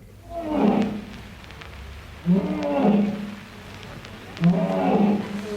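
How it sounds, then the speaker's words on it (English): A real lion roaring in three deep, drawn-out calls spaced about two seconds apart, each swelling and fading, fairly close and loud against a low background hum. "Let's hear what a real lion sounds like."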